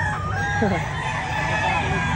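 A rooster crows briefly against a dense, noisy background of other chickens and steady ambient hum at a poultry market in Lipa, Batangas, Philippines.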